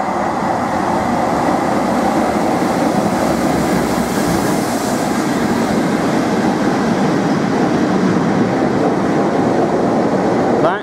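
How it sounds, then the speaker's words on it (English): Class 37 diesel locomotives pass through a station with a loud, steady, continuous roar of engines and wheels on rails, sustained throughout without talk. "we've got some class 37 locomotives about to pass through"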